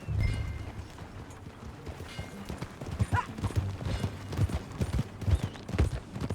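Horse hooves clip-clopping at a steady riding pace in Red Dead Redemption 2, with rhythmic close thuds over faint tack and ambient noise.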